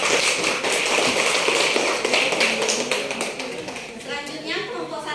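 Classroom applause for a presenting student group, a steady dense patter of many hands clapping throughout, with voices talking over it toward the end.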